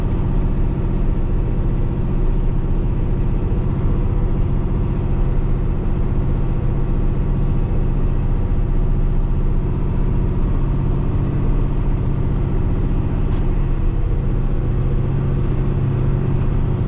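A 2025 Kenworth T880 truck climbs a very steep road in second gear, its engine giving a loud, steady, low rumble without a break, heard from inside the cab.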